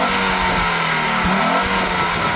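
An Audi RS2 Avant engine revs hard and loud, a steady high-pitched roar with no talking over it.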